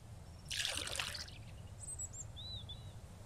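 Water pouring into a bucket in the Mist Survival video game, a short splashing gush lasting about a second, then birds chirping faintly over quiet ambience.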